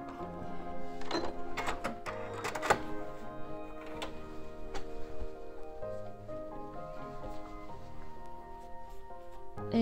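A home sewing machine running a few quick bursts of stitches to lock a seam on a sweatshirt, rapid mechanical clatter with short pauses, fairly quiet and close.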